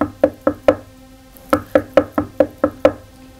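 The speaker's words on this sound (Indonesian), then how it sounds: "Pemilik mengetuk pintunya berkali-kali" Someone knocks on a door in two bursts, four raps then seven, sharp and close with a hollow wooden ring and a short pause between the groups.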